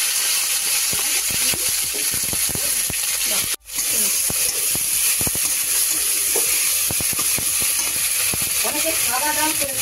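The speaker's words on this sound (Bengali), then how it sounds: "বাটা মশলাটা তেলের মধ্যে ছেড়ে দেবে, তাই তো?" Chilli and garlic spice paste fries in hot oil with a steady broadband sizzle, broken by one brief dropout, while people talk over it throughout.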